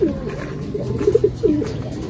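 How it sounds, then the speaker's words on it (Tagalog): Pigeons coo and flutter faintly in an outdoor loft setting as homing pigeons return, with a few soft cooing notes over low ambient noise and no talking. "Ayun, landing board din mga kalapatids."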